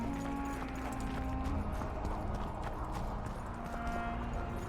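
Hooves of Geralt's horse Roach galloping in The Witcher 2, a steady rapid clip-clop rhythm that carries on throughout at moderate distance.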